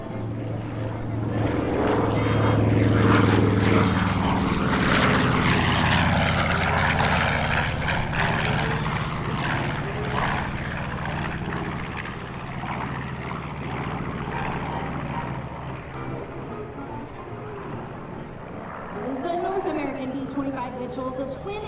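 B-25 twin-engine bomber warbird, the B-25 Panchito, passing at the Power In The Pines air show, its propeller engines droning loud and broad, then slowly fading, with crowd noise and a commentator's voice around it.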